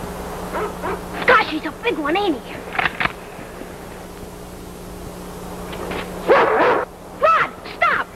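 A dog in an outdoor 1941 film scene gives a few yips and barks in separate bursts, some sharp and some whining, with a steady low hum underneath.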